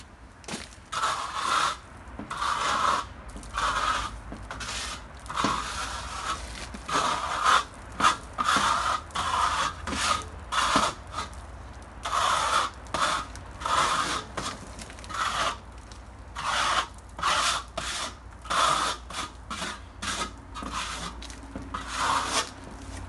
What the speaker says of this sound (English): Now we're going to trowel it smooth.